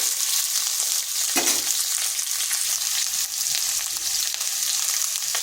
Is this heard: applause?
no